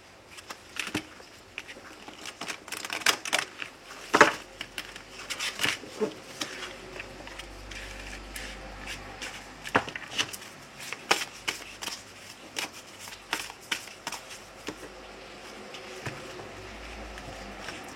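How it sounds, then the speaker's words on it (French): Heavy rain beginning to fall outdoors, a dense crackling patter of drops with sharper taps scattered throughout, steady and fairly faint for the whole stretch. "Je ne sais pas si vous entendez le bruit de la pluie, mais il commence à pleuvoir très fort."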